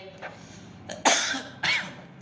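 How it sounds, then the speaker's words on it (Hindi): A person coughs several times, short harsh bursts with brief gaps, the last two loudest, fairly close in a quiet room with faint background murmur. "खांसी आती है।"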